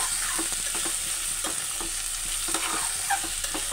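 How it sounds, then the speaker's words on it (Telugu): Okra pieces fry in hot oil with a steady, dense sizzle, broken by scrapes and stirring clatter close by, constant and fairly loud throughout. "నూనె కాగిన తర్వాత బెండకాయ ముక్కలు వేసుకొని బాగా వేయించుకొని తీసి పక్కన పెట్టుకోవాలి"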